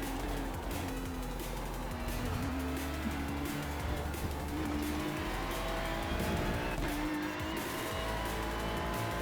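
A Ferrari GT3 or Formula 4 race car in a racing simulator at Road Atlanta or Silverstone drones steadily at high revs, with engine pitch dropping and tires squealing under hard braking into a corner.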